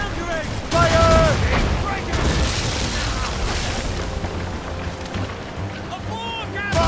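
Booming naval cannon fire during a sea battle in Assassin's Creed Rogue, heavy repeated blasts rolling over ship noise and water, with shouted voices over the chaos.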